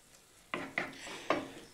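Tomato coulis stirred in a pan, a spoon scraping in three distinct strokes over a faint simmering sizzle, close and moderately quiet.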